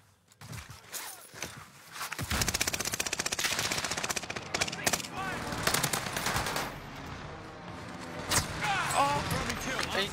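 Heavy video-game gunfire fills a shooter match, with rapid machine-gun bursts and scattered shots over a continuous battle din, along with footsteps.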